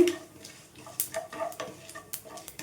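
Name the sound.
tempering spices frying in a pan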